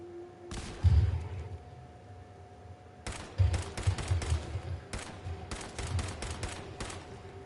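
Video game gunfire in Fallout 4, bursts of heavy rapid shots with thudding low impacts, a short volley early then a longer run of repeated fire, loud and close, no talking.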